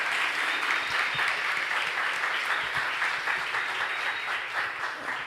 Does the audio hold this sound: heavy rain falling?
no